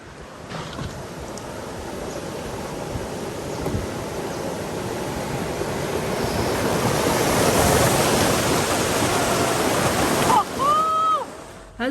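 Rushing water of river rapids churns steadily around a bamboo raft in Mae Wang, Thailand, building louder toward the end, with a brief bird-like chirp near the close.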